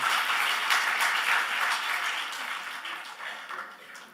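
A church congregation applauds during a worship service, a soft, diffuse rush of clapping that swells briefly and then fades away over a few seconds.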